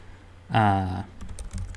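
A short voiced sound, then a handful of quick, light keyboard taps clicking in an uneven rhythm close by.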